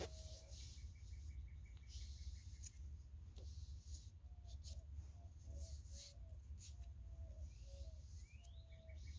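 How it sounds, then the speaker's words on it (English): Faint birds chirp in short, scattered tweets over a steady low background rumble, with a few light rustling touches and no talking. "so that you could hear the birds chirping."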